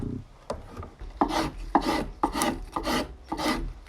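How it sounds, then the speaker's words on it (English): Spokeshave shaving and rounding a wooden tool handle, with six steady rasping strokes at a regular rhythm, loud and close, and no talking. "And now to spend absolutely ages with a spoke shave"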